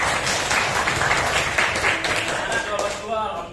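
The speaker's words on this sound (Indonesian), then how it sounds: "Tepuk tangan untuk kalian semua." Applause from students in a twelfth-grade Islamic religious education class, a dense steady clapping that runs through the whole stretch at a fairly even level before easing slightly at the end.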